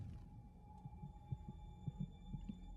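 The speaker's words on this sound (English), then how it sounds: "Your heart's beating pretty fast" A steady, fairly quick heartbeat thumps at low volume over a faint constant hum, the paired beats repeating evenly in a quiet sound effect from She-Hulk.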